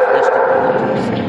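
Dogs barking and yipping close by in short excited bursts, heard through and under people talking.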